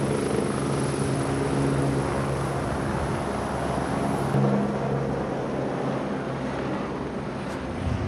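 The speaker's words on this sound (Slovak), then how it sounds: "Popradský vrtuľník sa vrátil pre ďalšieho pacienta" Rescue helicopter from Poprad at the site of a collapsed motorway bridge under construction in Slovakia, its rotor a steady, loud drone that holds throughout with a low throb, close by and with no voices.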